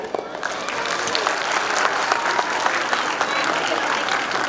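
Audience applause for an aerial yoga performance at a preprimary school annual function, steady and fairly loud clapping from a large crowd throughout.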